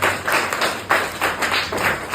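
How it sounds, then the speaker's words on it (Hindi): A group claps for Jeetu in a lesson on the dialects of Bihar: steady, rhythmic clapping from several people, fairly close and continuous, with no one talking. "इनके लिए ताली बजाइए"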